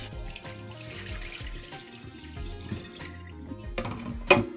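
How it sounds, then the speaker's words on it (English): Water from a pot of blanched vegetables poured off into a strainer in a home kitchen, a steady running splash that swells with a louder gush near the end, heard alone. "Then we drain the water."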